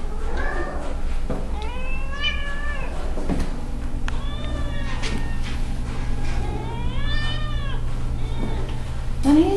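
A young brown tabby and white male cat meows repeatedly and insistently, a series of drawn-out, rising and falling calls close to the microphone over a steady low hum, with no talking.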